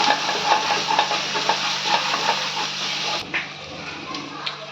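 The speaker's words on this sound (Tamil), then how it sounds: "தக்காளி போட்டு கொஞ்சம் வதங்கட்டும்" Tomatoes sauté in a pan for garlic chicken, giving a steady close sizzling hiss with light stirring scrapes that ends abruptly partway through.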